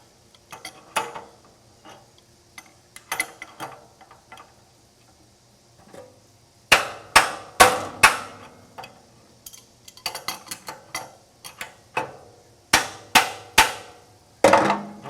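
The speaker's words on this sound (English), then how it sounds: "Go ahead and snug the nut using the same technique you used to take it off." Large crescent wrench snugging the wheel nut on a TimberKing sawmill during a wheel belt change: bursts of sharp metallic clicks and taps, sparse at first, then louder repeated clusters of close clanks.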